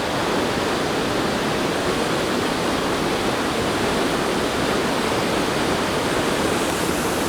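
Sabbaday Falls cascade in New Hampshire: a loud, dense, unbroken rush of falling water fills the whole stretch, with no other sounds.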